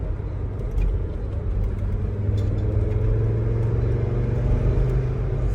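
Car engine running with a low, steady rumble that swells slightly as throttle is applied, continuous and fairly close throughout.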